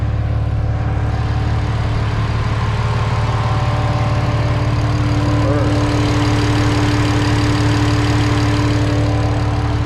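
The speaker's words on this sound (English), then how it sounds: "That to be an E85 cold start, it started up pretty easy" A big-turbo BMW 335i idles after a cold start on E85 fuel, giving a steady, loud, low engine drone with a slight lumpy pulse, continuous and close throughout with no talking.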